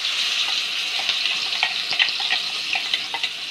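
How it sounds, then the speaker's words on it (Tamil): Ground masala paste sizzles and fries steadily in a pan for Kerala chicken fry, with curry leaves in the oil, a continuous close crackle with scattered sharper pops as it is stirred. "நல்லா வசக்கணுங்க மசாலா"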